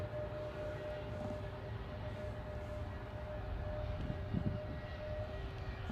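A Boeing 737 MAX 8 departing Manchester for Salzburg produces a low, fairly quiet engine rumble with a steady tone that builds slightly toward the end, with no voices.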